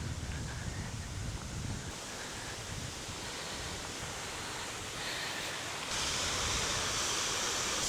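A waterfall at Cowley County State Lake, heard as a continuous broadband rush from a distance, steady and even throughout, brightening slightly near the end with some wind buffeting on the microphone.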